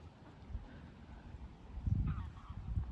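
Geese honk a few times in the distance across water in the Cotswolds, low and soft, over faint wind and outdoor hush.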